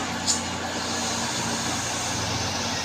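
Container trailer truck straining up a steep incline, a steady low engine drone under throttle, close and continuous, with a brief high hiss near the start.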